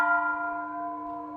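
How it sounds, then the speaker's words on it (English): A monastery bell rung by a young novice monk at dawn, a single struck tone that rings out and decays slowly with a rich sustained resonance, heard alone at moderate distance. "So he's ringing the bell just a little early."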